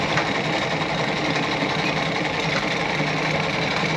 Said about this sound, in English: So I'll sew through that again.